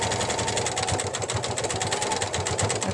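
A sewing machine stitches across a canvas neck pouch in one continuous run, a fast rhythmic chattering that is close and steady throughout with no pauses.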